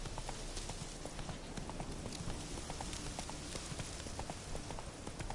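Roach, a horse in the video game The Witcher 3, trots with rapid, even clip-clopping hooves over a constant bed of ambient noise, moderately loud and uninterrupted.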